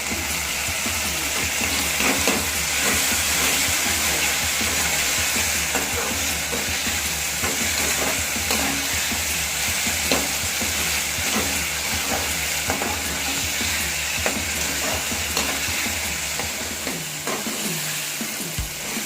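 Tomatoes, onions and mustard seeds sizzle with turmeric in a hot pan, a steady close frying crackle broken by repeated scraping and stirring strokes, with no talking.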